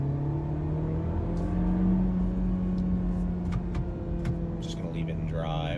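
A 2019 VW Jetta pulling away from a stop, heard from inside as a steady low engine hum with a faint whir that builds gently, quiet overall.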